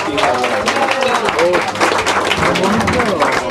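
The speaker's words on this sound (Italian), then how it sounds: "Volevo fare un applauso a Alessandro, grazie." An audience at a comedy-dinner event in an Italian resort applauds, with dense, loud clapping that runs throughout and a voice talking over it.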